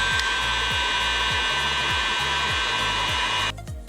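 A heat gun blows a steady loud roar of hot air onto heat shrink tubing over a wire on a 2021 Yamaha TW200 motorcycle, with faint rhythmic ticks underneath before it cuts down near the end.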